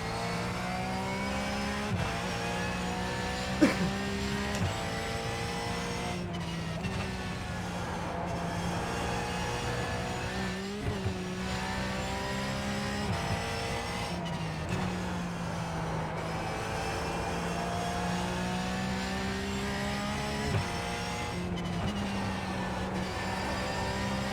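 Race car engine during a lap in iRacing, a steady loud drone with repeated rising revs and quick drops at gear shifts throughout, no voices.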